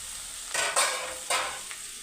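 Ponnaganti leaves being stirred and fried in a pan, a steady soft sizzle with two louder bursts of scraping and frying as the spoon moves, no voices.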